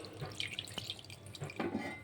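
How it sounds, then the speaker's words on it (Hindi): Water pours steadily into a cooking pot of lentils and meat for shami kabab, a continuous splashing stream with a few drips and clinks, close by and moderately quiet. No one talks. "अब हम इसको इतना पानी डाल दें कि हमारा दाल और गोश्त एकदम आराम से गल जाए"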